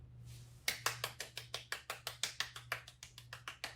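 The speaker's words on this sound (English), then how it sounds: "a round of applause" Applause at an academic ceremony: a close, steady run of about fifteen sharp claps in even rhythm, loud and clear against a low background hum, with no voices.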